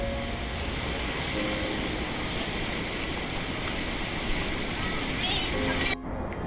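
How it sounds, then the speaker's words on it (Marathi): Palse Waterfall in Tamhini Ghat near Mulshi pours down from above in a continuous, dense roar of falling water that stays steady and fairly loud for several seconds before abruptly cutting off. "अजून पाहू शकता तुम्ही वॉटरफॉलचं वरून येणारं पाणी आणि वरती तुम्ही पाहू शकता वॉटरफॉल"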